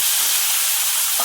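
Onion frying in hot oil in a pan gives a loud, dense, continuous sizzle with a bright crackling hiss, heard up close and with no talking.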